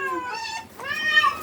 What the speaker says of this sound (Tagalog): Naghihintay na yung maliit na kuting.